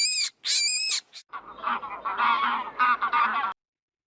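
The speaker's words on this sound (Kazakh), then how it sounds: "Қаз." A domestic goose gives a few sharp, high honks up close, followed by a steady run of rougher honking and gabbling that lasts several seconds before stopping, with no talk.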